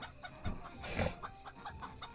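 Chickens cluck repeatedly in a tavern video game, giving a rhythmic run of short, close clucks with a louder squawk in the middle.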